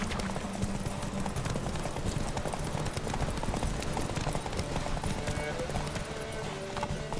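Roach, a horse in The Witcher 3, gallops with a steady, close clip-clop of hooves throughout, over continuous game ambience and music, with a brief whinny at one point.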